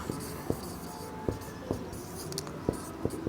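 A marker writes on a board during a Class 10 maths lecture on real numbers: scratchy strokes punctuated by sharp taps as letters and symbols are made, fairly close, with a steady room background and no talk.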